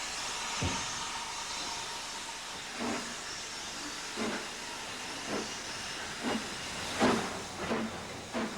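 A model railway locomotive, railscale, draws its goods train back out of the yard with a steady hiss and a series of soft, spaced rumbling bumps as the wagons roll.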